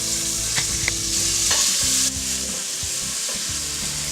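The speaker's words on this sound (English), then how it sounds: "Get those peppers in that pan." Spicy hot peppers sizzle and fry in a pan of olive oil mixed with curry, a steady loud crackling hiss with occasional stirring scrapes and clinks, no voices.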